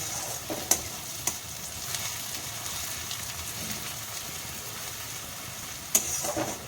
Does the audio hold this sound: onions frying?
yes